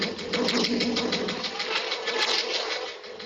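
Anakin's Episode 3 toy lightsaber humming steadily in a bright, buzzing electronic drone like a pod racer engine, fairly loud and continuous for about three seconds, with no talk.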